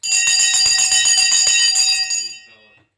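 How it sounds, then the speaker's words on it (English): Stock market opening bell ringing rapidly and loudly for about two seconds, then fading out. "Bell has gone."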